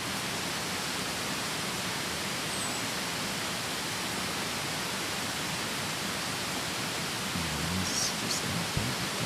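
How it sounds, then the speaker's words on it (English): Forest ambience recorded on an older Zoom H2 recorder, a steady, faint hiss-like wash of background noise with no distinct events apart from a soft rustle near the end. "Standing in the forest."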